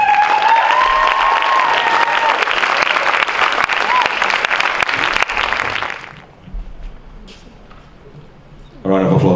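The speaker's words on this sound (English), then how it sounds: "A round of applause, ladies and gentlemen." An awards ceremony audience gives dense, loud, sustained applause that fades out after about six seconds, followed by a quieter room and a voice starting at the end.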